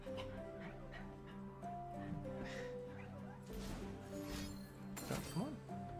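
Harvey, a pet dog, whimpers and yips in short high whines, partly under a person talking and game sounds.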